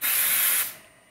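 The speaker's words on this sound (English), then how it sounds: "just spray it." Hair spray sprayed from an aerosol can onto curled hair during a get-ready routine, one close, steady hissing burst lasting about half a second before cutting off and fading.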